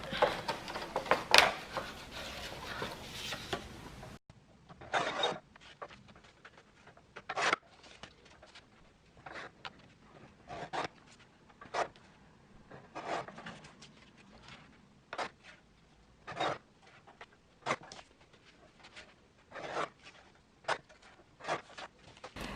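A paper guillotine cuts paper into 8 cm squares with a series of short, sharp slicing chops spaced a second or two apart. The cuts sound close and crisp over a quiet room after an opening stretch of rustling.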